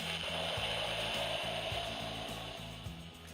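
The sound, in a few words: Proplica Excalibur toy sword lighting up and making its sound effect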